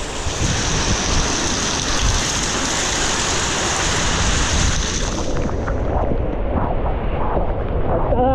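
Heavy rain pouring during Typhoon Crising in flooded Bucana, a loud, dense and unbroken roar of water that thins out slightly in the last few seconds.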